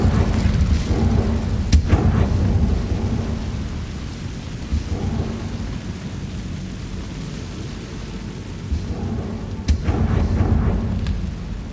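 Incendio fire spell cast in Hogwarts Legacy: a loud, rumbling roar of flame with sharp cracking bursts near the start and near the end, sustained and broad throughout without speech.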